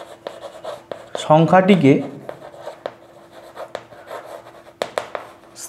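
Numbers being written by hand, with pen scratches and taps on paper while a voice talks over them.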